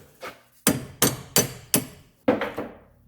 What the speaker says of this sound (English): Let's get a hammer.